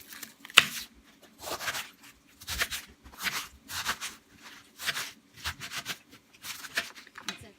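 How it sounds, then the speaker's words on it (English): A knife slices through cabbage crossways into sections, giving a steady run of short, crisp cutting strokes, about one every second, close by and fairly loud against a quiet background. "I'm going to slice up my cabbage, and it says to cut it crossways into sections."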